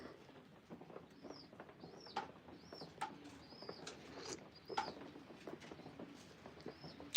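Pigeons in a ventilated, unheated loft coo and call repeatedly while wings flutter and feet patter nearby, a busy close chorus with no talk.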